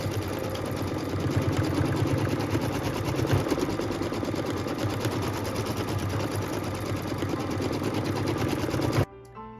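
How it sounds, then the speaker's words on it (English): A sewing machine quilting fabric with gray thread runs continuously in a fast, steady motorized stitching hum for about nine seconds, then stops abruptly near the end. "And here we come with the quilting."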